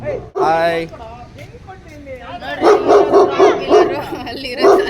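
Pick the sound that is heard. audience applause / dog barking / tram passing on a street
dog barking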